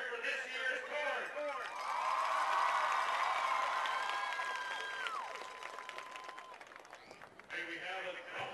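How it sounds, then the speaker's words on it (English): Crowd at a high school homecoming football game cheering for the homecoming court, a broad roar and applause that swells and holds under a loud announcer's voice over the stadium PA. "can we hear a cheer for this year's court?"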